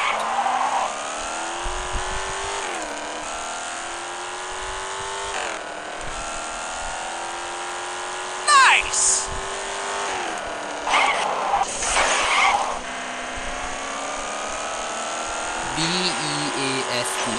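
Video game cars race and drift, with steady loud engine drone that rises and falls through gear changes, broken by bursts of tire squeal and skidding around the middle and again near the end.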